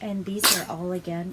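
A single sharp sneeze bursts out between stretches of close talking.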